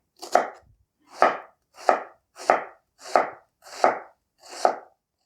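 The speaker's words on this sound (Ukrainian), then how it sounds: "Цибулю ріжу так, як на суп." Onion being chopped finely with a knife for a soup-style pilaf, seven crisp, evenly spaced cuts against a board, close and clear with no talking.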